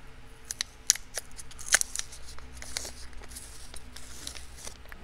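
Masking tape peels from a freshly painted Ford Model A ammeter in a run of crisp ticks, crackles and tearing rasps, close and fairly quiet, with no one speaking.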